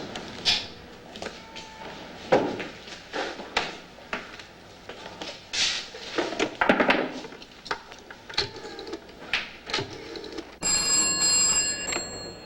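An old-fashioned telephone bell ringing in repeated bursts indoors, fairly close and clear, with a steady electronic tone sounding near the end; no talk over it.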